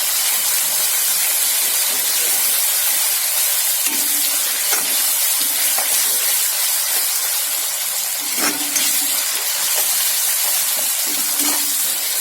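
Ginger garlic paste sizzles in hot oil while being sautéed for a jackfruit biryani, a loud, steady hiss and crackle that runs unbroken throughout with no talking.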